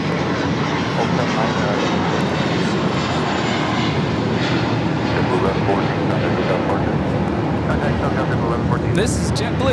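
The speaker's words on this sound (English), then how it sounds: "This is JetBlue Airways 1114 taking off to JFK" A JetBlue Airways jet airliner takes off from LAX bound for JFK, its engines giving a steady, loud, broad roar that holds throughout, with a voice talking over it.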